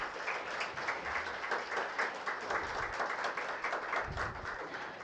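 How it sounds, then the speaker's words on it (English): An audience at a global conference applauds during a memento presentation to dignitaries, a dense, fairly soft patter of many hands clapping evenly from slightly far away. "Can we have a huge round of applause"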